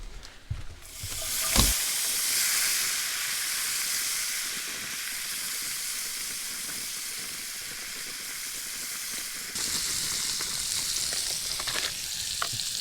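Potatoes O'Brien with onions and peppers sizzle steadily in a pan on a truck camping stove, a loud continuous frying hiss after a brief clatter, with no talk.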